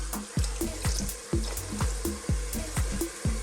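Cold water is poured into a pot of Ethiopian doro wat, a spicy chicken stew, and it sizzles steadily while a spoon stirs and scrapes in a regular rhythm of close, repeated knocks.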